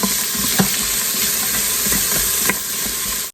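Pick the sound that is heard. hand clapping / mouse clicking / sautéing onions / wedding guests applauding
sautéing onions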